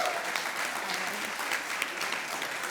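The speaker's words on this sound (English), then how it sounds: "Let's give them just one more round of applause." Steady, close applause from an audience at a CEO celebration honoring award recipients, an even rush of many hands clapping throughout with a few louder individual claps.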